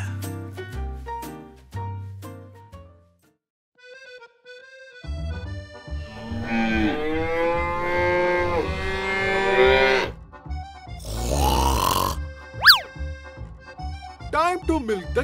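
Cartoon cow mooing on a farm, several drawn-out moos with strong harmonics alongside bright animated music and effects, loud and up front.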